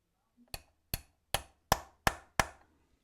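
Six sharp hammer strikes on the metal tang of a post bridge during installation, fairly evenly spaced and ringing briefly, with no voices.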